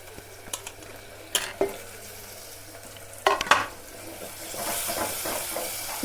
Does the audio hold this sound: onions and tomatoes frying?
yes